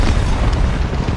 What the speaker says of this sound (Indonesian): akhirnya tempatnya beserta semua zombie pun lenyap dengan ledakan